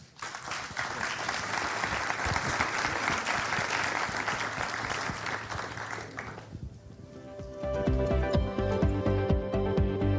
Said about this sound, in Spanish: un aplauso para el panel